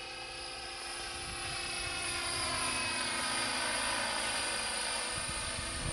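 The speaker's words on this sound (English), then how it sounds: "when I'm flying these, I'm banking over with cyclic, pulling back on cyclic to bring the nose around, coordinating with tail rotor." A helicopter flies a large figure-8 pattern, its steady rotor and turbine drone filling the air with a constant broadband roar that swells slightly as it banks and turns.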